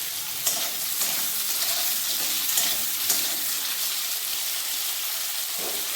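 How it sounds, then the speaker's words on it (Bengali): Potatoes sizzle and crackle in hot oil, a loud, steady frying hiss with occasional pops and stirring. "আমার আলুগুলো ভাজা হয়ে গেছে"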